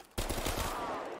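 A Thompson submachine gun fires in Black Ops 3 Zombies, a short burst of rapid automatic shots that starts abruptly and is loud and close.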